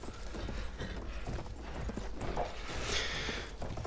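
A horse's hooves clip-clop in the video game Battlefield 1, a quick, steady run of hoof beats over a dense, noisy game soundscape at moderate volume.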